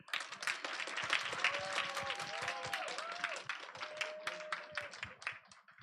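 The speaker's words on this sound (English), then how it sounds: "Let's do one big round of applause for 7th and 8th grade" Audience at a school English speaking contest breaks into sustained applause for seventh and eighth grade speakers; steady dense clapping throughout, with a faint tonal voice or whistle threading through the middle, fading slightly at the end.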